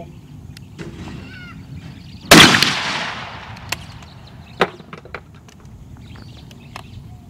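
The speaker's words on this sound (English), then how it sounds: "Woohoo! I got one shot, guys." A single loud shotgun blast at a skeet shooting range in Australia, a sharp crack followed by a decaying rumble, with a couple of faint pops afterward.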